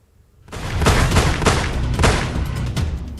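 A burst of gunshots fired in broad daylight at a cattle shed owner on a quiet street in Kunda, captured on CCTV: several loud, sharp cracks come in quick succession over about three seconds with no talk.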